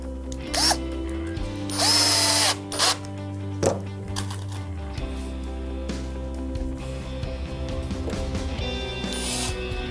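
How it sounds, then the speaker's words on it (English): A power drill drives screws into a pallet bench, with several short whirring bursts and rising motor whines over a low steady hum, close by and without speech. "And then drive a few more screws right the way in so it's nice and tight."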